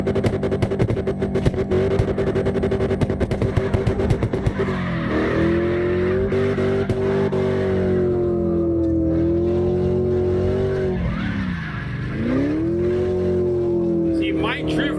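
Sustained engine roar from a car drifting in the CarX Drift Racing Online game, with wavering revs and tire skid squeal running loud and continuous throughout, overlaid by a person talking.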